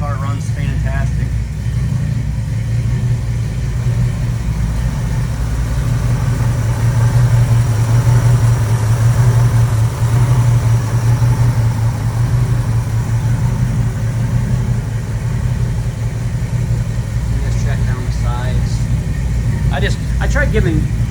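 A 1965 Ford Mustang with a 289 V8 idling, a steady loud low rumble running throughout with someone talking over it.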